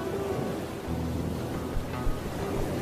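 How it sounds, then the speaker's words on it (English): Steady ocean surf washes continuously at moderate loudness, a broad rolling wash with a couple of slightly stronger surges, mixed with faint sustained tonal notes and no voices. "as you can listen to the waves, the sound of the waves"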